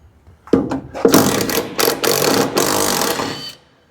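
Impact wrench fitted with a 1/2 inch chrome socket, working on a 1973 Ford F100 during rust repair: a few short bursts, then a sustained loud rattling run of about two seconds that stops abruptly, close by.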